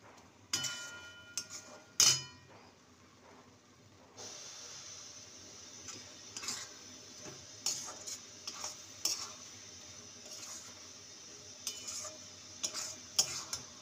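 A spoon stirs a lentil and bottle gourd curry with chopped coriander in a pan, giving faint, irregular scraping taps over a soft, steady sizzle.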